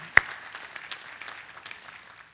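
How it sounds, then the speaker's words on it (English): Faint, distant audience applause at a commemoration event for the Orangeburg Massacre, opening with one sharp close clap before settling into a soft, steady patter of many hands. "Give them a round of applause."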